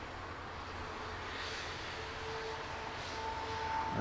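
A British Airways airliner on approach to Heathrow Airport passes overhead as a steady, broad jet engine roar, fairly even throughout with a thin whine rising near the end, no talk.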